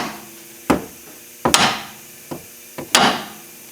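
Hammer tapping splined bolts out of a suspension assembly: five sharp, close metallic knocks at uneven intervals, each with a brief ring, separated by quiet.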